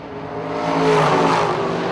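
A black and green Chevy S10 pickup and a Chevelle launch in a drag race, engines roaring loud and close with a rising rev over about two seconds, dense harmonic engine tone building to a peak.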